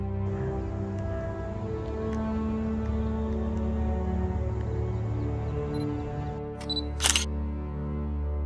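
Sony A7III camera shutter clicking outdoors on a city hillside, a single crisp mechanical click near the end over a steady low hum of background noise.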